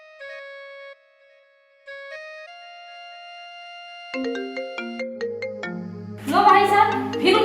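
A melodic phone ringtone plays as repeated electronic tones, pausing briefly, then rising into a busier tune with plucked notes before music and voices swell over it near the end.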